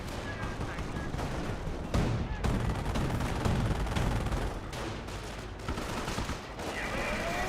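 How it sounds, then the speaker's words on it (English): A machine gun bunker fires in a Company of Heroes battle, making dense continuous bursts of gunfire with explosions underneath, loud and unbroken, while a commentator talks over it. "And now the rifle squad is going to be hit by the MG bunker."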